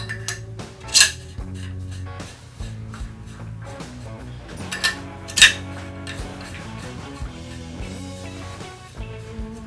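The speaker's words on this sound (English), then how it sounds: "Now we're going to screw the choke tubes back in and reassemble the firearm." Metal choke tubes being screwed back into an over-under shotgun, with light clinks and small scraping metallic ticks, two sharper bright clanks standing out among the quieter handling noises.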